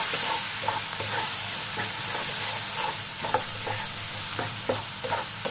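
Dry spices frying with potato keema in a pan, a steady close sizzle with repeated scraping stirs of a spoon throughout, no talking.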